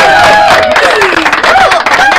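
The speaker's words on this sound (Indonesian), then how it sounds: "Tepuk tangan dulu dong buat Kak Dutanya nih" Crowd applauding and cheering for a dance performer at a school orientation event, dense clapping sustained throughout with a few voices rising over it.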